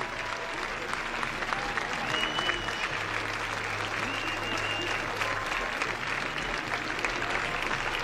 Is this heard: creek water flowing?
no